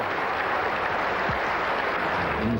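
Steady, dense applause from a large cricket crowd after a batsman is dismissed at the end of a fine innings in a 1994 New Zealand versus Pakistan test, a continuous wash of clapping sustained evenly throughout.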